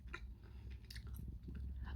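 Someone chews gum close to the microphone, giving soft, irregular wet smacks and clicks over a low background rumble, with no speech.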